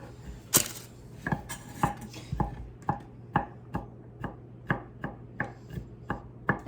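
Knife chopping onion and poblano on a cutting board, a steady series of crisp taps at a relaxed, even pace, close by with no talking.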